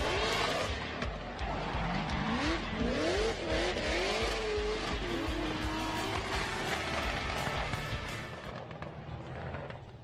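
Race cars roar past on a circuit, engines loud and close with rising and falling pitch sweeps as they accelerate and brake, tyres skidding and squealing throughout, the noise easing slightly near the end.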